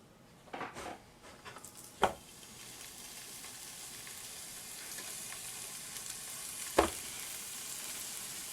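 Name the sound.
thick seasoned rib eye steaks sizzling in a preheated skillet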